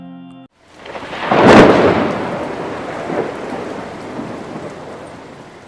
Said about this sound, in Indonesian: Serentak, petir menyambar altar tersebut.